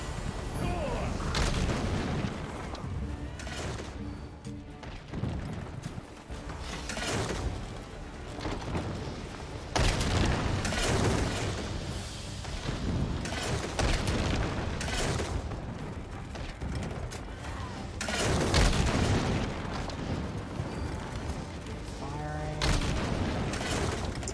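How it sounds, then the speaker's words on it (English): Ballista siege weapons firing during a large player-versus-player battle in the Elder Scrolls Online game, repeated heavy booming impacts and mechanical thuds in a dense, chaotic mix, with voices talking over the fight. "Is he shooting us with 2 packed ballistas?"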